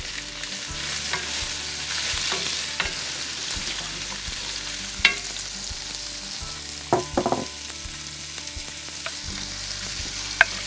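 Celery and onions fry in bacon grease, a steady sizzle with scattered clinks and scrapes of stirring, close and moderately loud with no talking.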